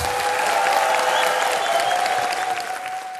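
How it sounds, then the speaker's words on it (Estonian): Studio audience applause at a televised folk accordion contest, a continuous dense wash of clapping with a faint held tone underneath, easing slightly toward the end. "Kasvatame selle aplausi veel suuremaks."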